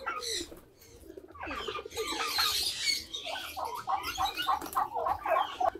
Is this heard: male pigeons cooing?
yes